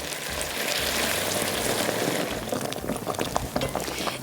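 Boiling water poured onto hot sizzling tomato paste, a loud continuous hiss and bubbling that settles into crackling spatters.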